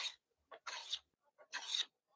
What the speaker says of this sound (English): It's high density, and I can shave it with a planer.